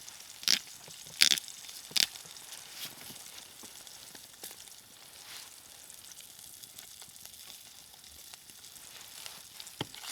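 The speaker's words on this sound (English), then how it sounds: "Bacon's sizzling." Bacon sizzles in a pan over a campfire on a frozen lake in winter: soft, continuous crackles with a few sharp pops near the start, heard close up with no talking.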